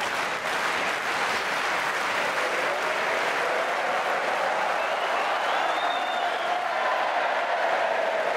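A Wimbledon 2008 fourth-round crowd on Centre Court cheers and applauds in a steady, sustained roar, with a commentator's voice faintly underneath.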